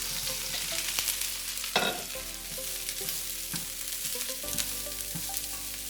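Vegetables for beef chow fun sizzling in a hot pan, a close, steady fry with scraping stir strokes and a low background hum, one sharper burst near the two-second mark.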